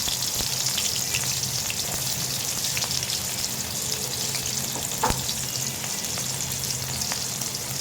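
Onions and chillies frying in hot oil in a wok, a dense, steady crackling sizzle close by with a few sharper pops and light stirring.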